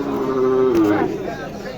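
A single cow gives a loud, close moo lasting about a second, with its drawn-out tone sliding downward, amid the general noise of a busy traditional cattle market in Naogaon.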